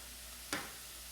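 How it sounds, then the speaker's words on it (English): Steady hissing sizzle of potatoes in a hot pot, with one brief clunk partway through. "You hear the sizzle?"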